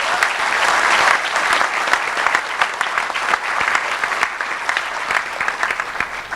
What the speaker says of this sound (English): please join with me in offering an appreciative round of applause to our support systems